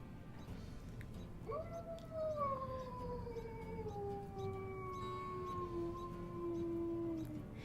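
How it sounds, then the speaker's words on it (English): A wolf in the WolfQuest video game lets out a single long howl, rising sharply then sliding slowly downward in a smooth tone that sustains for about six seconds over a quiet hum. "Let's listen to her howl."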